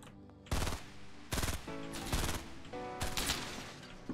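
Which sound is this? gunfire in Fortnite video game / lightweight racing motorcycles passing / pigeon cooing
gunfire in Fortnite video game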